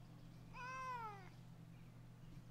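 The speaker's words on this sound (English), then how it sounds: "What do you want, kitty?" A cat gives a single clear, drawn-out meow, faint against a steady low hum in a quiet indoor space.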